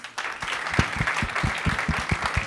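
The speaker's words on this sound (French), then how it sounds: "On peut l'applaudir pour ça?" An audience at a French town community event applauds together, a steady rhythm of close, sharp claps lasting a couple of seconds.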